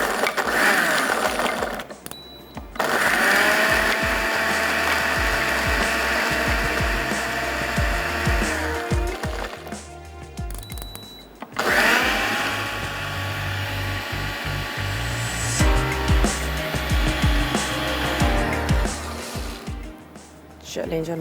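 A home electric grinder pulses as it grinds cashews with spices and coconut powder, a loud whirring burst that stops, then starts again for a second long run, with someone talking over it.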